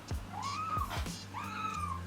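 A young kitten gives two thin, rising-then-falling meows about a second apart, fairly faint and close, with a few low thumps around them and no talk.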